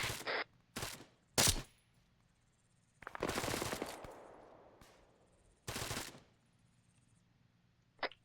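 Arma 3 gunfire comes in short separate bursts, then a longer rattling volley that trails off, then another burst and a final brief shot, all loud against a quiet background.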